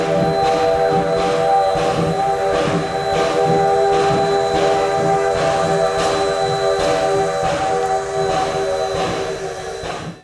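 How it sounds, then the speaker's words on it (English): A small steam locomotive at a steam museum reversing into a siding, with a steady sustained whistle tone over rhythmic chuffing and rail rumble, fading out at the end. "2 reversed into the siding to let the shade pass before it could head into the locomotive shops"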